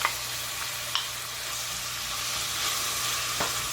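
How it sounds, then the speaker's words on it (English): Onions and mixed red, orange and yellow peppers sautéing for a vegetable chow mein, a steady close hiss of frying with a few faint stirring clicks, no talking. "now we're going to go ahead and let that saute for like another minute"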